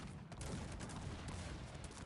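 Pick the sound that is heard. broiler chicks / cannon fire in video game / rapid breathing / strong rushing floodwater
cannon fire in video game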